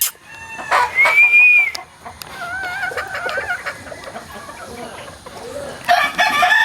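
Lacy roundhead gamefowl rooster crowing nearby, several loud crows in sequence with clucking and other fowl around, a voice faintly present.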